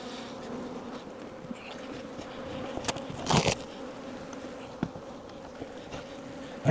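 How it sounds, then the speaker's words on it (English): Agitated honey bees buzz at an open hive during a split with a queen introduction, a steady close drone with occasional sharper bursts and knocks, no voices. "These bees are not very happy."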